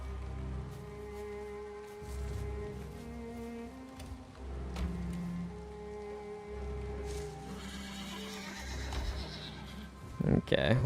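Horses whinny repeatedly in the video game Valheim, several neighs rising over faint ambience, with a person talking in between.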